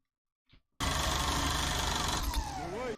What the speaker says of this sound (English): I like how that scream kind of bled into the drill sound there.